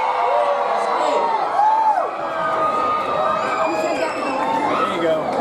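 An amusement park crowd, gathered for a new roller coaster announcement at Busch Gardens Williamsburg, screams, whoops and cheers in a dense, loud, continuous wall of voices.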